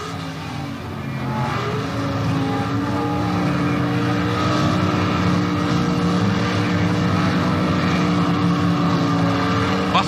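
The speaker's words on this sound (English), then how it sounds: "They leave the line together, front wheels bouncing off the ground for Ronnie Manchester." Two 1977 NHRA drag race cars, a Chevy Monza and a Mustang, launching together at the Summernationals, a loud sustained engine roar that swells and holds steady for several seconds without pause.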